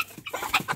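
A rooster gives a few quick, close clucks in a short, uneven burst.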